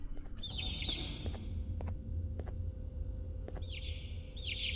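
Birds in the video game Garten of Banban 2 chirp in short bursts of quick high twittering, two clusters a few seconds apart over a steady low background hum, with sharp clicks between them and no talking.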